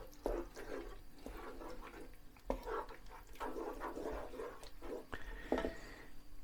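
Coconut shrimp and crab curry with chili being stirred in a pot, giving soft wet sloshing and scraping strokes that come in irregular bursts, fairly quiet and close.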